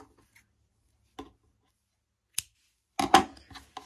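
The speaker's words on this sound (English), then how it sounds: "And now you can cut your yarn." Scissors snipping crochet yarn: a few sharp, dry clicks spaced apart, then a quick cluster of cuts near the end, close and clear against a quiet background.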